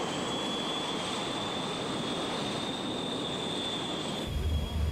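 Small Fouga Magister jet trainer with two tiny low-thrust jet engines flying at a military air show at RAF Fairford, a steady loud jet roar with a high whine throughout, swelling deeper near the end.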